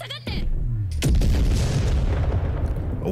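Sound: explosion in anime episode

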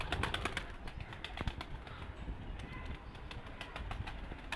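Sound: pigeons released, flying and flapping wings

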